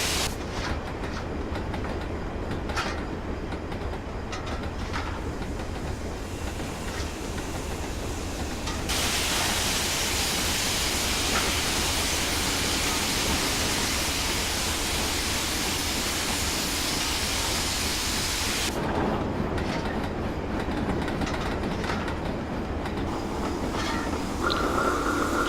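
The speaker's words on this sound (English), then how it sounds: "a Class 2 MT hauling some coal wagons through the sidings at this colliery here" Video game Class 2 MT steam locomotive hauling coal wagons through colliery sidings, a steady rolling rumble with clickety-clack of wheels, swelling louder in the middle as it passes, no talk.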